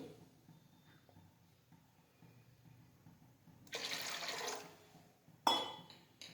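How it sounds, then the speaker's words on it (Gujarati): Water pours into a pot of milk on the stove in a steady splashing rush for about two seconds, followed by a sharp clink, with quiet kitchen background before it. "તેમાં થોડું પાણી ઉમેરીશું"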